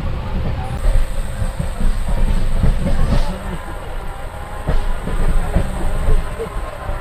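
The Gitanjali Express runs toward Bardhaman in India, heard from inside as a loud, continuous rumble with rhythmic wheel clatter and a faint high whine throughout.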